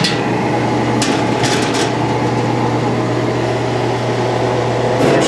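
Oxynate bluing tank solution for a Sweet Sixteen 16 gauge shotgun heating toward a simmer, a steady loud broadband hiss and hum with a constant low drone and a few faint bubbling pops, no voices.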